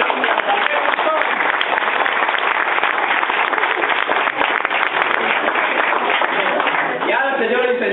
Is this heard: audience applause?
yes